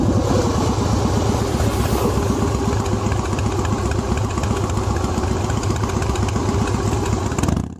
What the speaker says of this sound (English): the couple revs their engine to depart